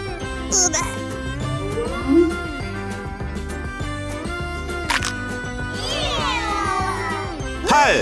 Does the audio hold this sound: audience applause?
no